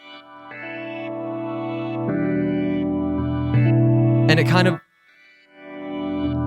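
Sampled synth chords play steadily on a Maschine MK3 or SP-404SX while a high-pass filter with resonance turned nearly all the way down sweeps up, thinning out the low end before it drops away and the chords return.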